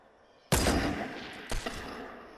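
Two sharp sniper rifle shots in Fortnite, the first loud with a long echoing decay, the second about a second later with a quick follow-up crack, no talking.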